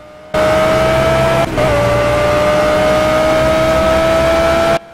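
An Audi R8 LMS Ultra GT3 race car in a Le Mans sim racing game drones steadily at high revs, with a brief dip where braking cuts in before the engine tone resumes until an abrupt cutoff.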